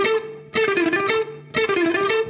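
An electric guitar plays a fast picked lick in two quick bursts at high speed, each starting after a held note, clear and alone.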